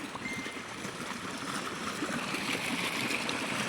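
Water flowing steadily from two motor pumps at a farm well, a continuous rushing and gurgling that stays even and fairly distant throughout, with no talk.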